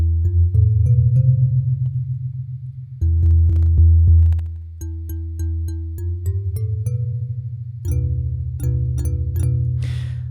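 Deep, mellow synthesized marimba tones ring out in a slow melodic sequence, each struck note booming low and sustaining with a woody resonance, no voices.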